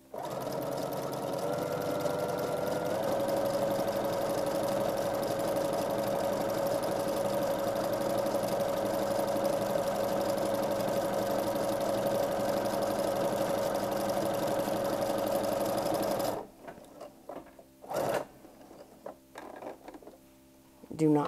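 Sewing machine running with tension on 9 and stitch length at its longest, a steady continuous hum for about sixteen seconds, then stopping; a few softer handling sounds follow.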